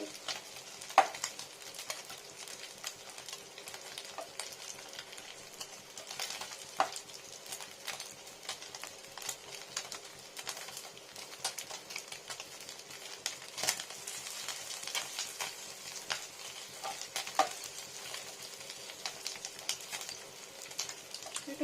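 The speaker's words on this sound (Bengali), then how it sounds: "এটাকে ভেজে নিচ্ছি" Small bata fish fry in a pan, a faint continuous sizzle broken by scattered crackles and light clicks throughout, with no voices.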